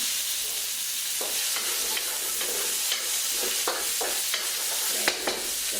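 Shiitake and oyster mushrooms sizzle steadily in sesame oil, with a constant frying hiss broken by occasional scrapes and clicks of stirring, close and moderately loud with no voices.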